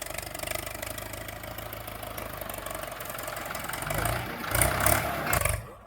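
A farm tractor engine rumbles steadily with a rough, low chugging idle, swelling louder toward the end.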